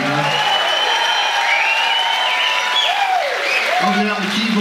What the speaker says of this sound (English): applause for the band up here, huh?